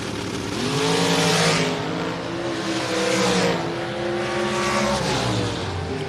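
Dragster race cars at a drag strip, engines roaring and swelling in several loud surging passes with shifting pitch, close and continuous with no talk over them.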